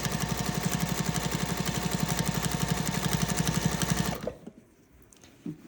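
A sewing machine stitches binding onto a quilted gift bag with a quarter-inch seam allowance, giving a loud, steady mechanical whir with a fast rhythmic chatter for about four seconds before it stops abruptly and leaves a faint quiet.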